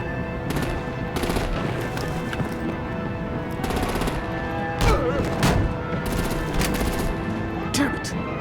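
Gunfire and artillery from the Batman The Enemy Within video game, with bursts of rapid automatic fire and heavy thuds over a dense, steady action-scene din.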